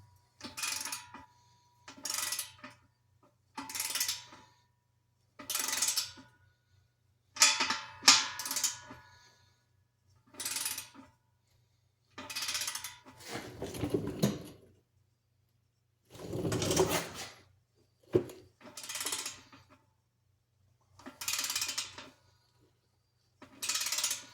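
A torque wrench ratchets while tightening exhaust bolts to 35 foot-pounds on a Ford Taurus SHO Ford Performance/Borla cat-back exhaust. Close, regular bursts of ratcheting are separated by short pauses.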